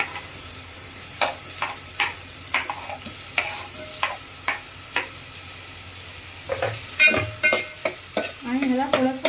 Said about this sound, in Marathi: आता मी टोपात तेल गरम करून ठेवलं आहे आणि त्याच्यात मी आता कांदा फोडणीला टाकणार आहे.